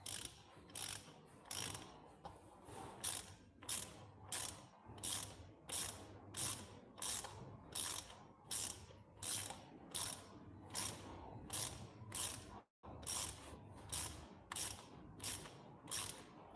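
Ratchet wrench tightening bolts while assembling gear, a steady run of about two dozen crisp clicking bursts, close and fairly loud, with a low hum underneath and no talking.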